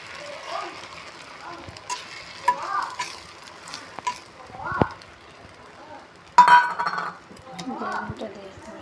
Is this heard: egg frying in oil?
yes